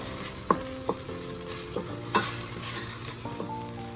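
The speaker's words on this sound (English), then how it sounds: "Put our freshly made curry paste and saute it until it releases its lovely aroma" Freshly made curry paste for beef rendang sautés in a pan, a soft continuous sizzle broken by a few clinking stirs of a utensil against the pan, close and without talk.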